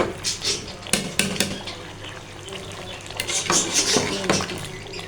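Chicken korma ingredients are mixed in a cooking pot, with wet squelching, stirring scrapes and clanks of a spoon against the pot in uneven bursts, close and fairly loud, no speech over them.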